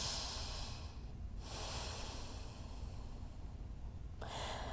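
Deep breathing during a yoga hip stretch: long, close, airy breaths rush in and out in slow cycles, with brief pauses between them and no talking.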